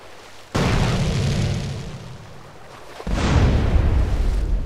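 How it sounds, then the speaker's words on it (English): A boat blowing up from a rocket launcher hit in Grand Theft Auto: San Andreas: a loud, booming explosion bursts in suddenly, fades to a rumble, then a second heavy blast erupts and roars on to the end. "Did he got hit by the explosion or he's dead automatically because I destroyed the boat?"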